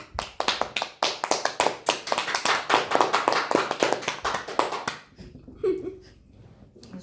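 A small group claps along to a tangerine unboxing, a few seconds of close, rhythmic sharp claps that stop abruptly, followed by quieter laughter and a brief voice.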